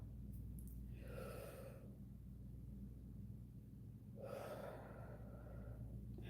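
Two slow, deep breaths drawn in close to the microphone, each a long airy inhale lasting about a second, over a low steady background hum and without speech.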